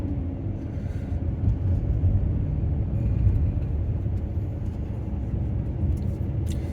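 A truck or van rolls slowly along a road past hurricane storm-damaged trees in Pictou County, Nova Scotia, with a steady, continuous low engine and road rumble throughout and faint scraping near the end.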